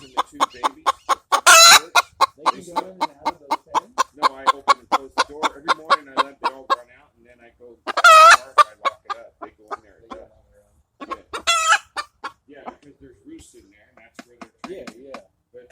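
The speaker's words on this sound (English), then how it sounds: "The other 5 hens and the 2 babies." Hens cluck loudly and close in rapid rhythmic bursts, with several sharp, louder squawking calls breaking in between the runs of clucks.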